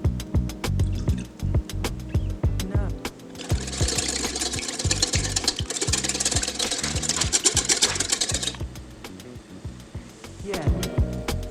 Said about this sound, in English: We want this to thicken up slowly as we whisk it and make it nice and smooth.